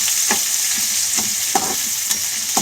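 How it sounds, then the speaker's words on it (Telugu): Small potato pieces frying in a pan for a potato and green pea curry, a steady close sizzle with occasional stirring scrapes, no talking. "ఇవి అప్పట్లోకి వేగుతాయి కదా."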